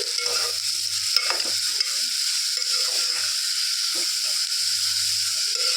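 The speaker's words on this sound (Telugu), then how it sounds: "గోల్డెన్ బ్రౌన్ అయ్యేంత వరకు మనం అయితే ఇక్కడ ఆనియన్స్ అయితే ఫ్రై చేసుకోవాలి." Onions frying in a pan for a chicken curry give a steady, close sizzle, with soft scrapes of stirring now and then and a faint low hum in brief bursts.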